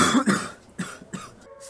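A person coughs several times in quick succession during World of Tanks gameplay, close and fairly loud, a rough hacking burst followed by two shorter coughs.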